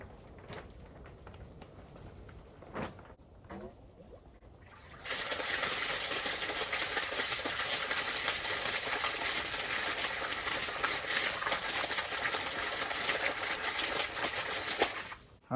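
A frozen yard hydrant opened to run water, a loud steady broadband gush starting abruptly after a few quiet seconds and pouring continuously nearby until it is shut off near the end.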